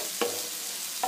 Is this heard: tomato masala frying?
yes